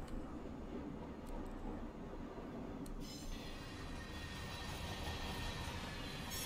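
Railroad cars rolling in Train Simulator on Tehachapi Pass, with center-beam flatcars and hopper cars in a consist running a mid-train DPU: a steady, continuous rumble with faint metallic clinks and a brighter hiss joining partway through.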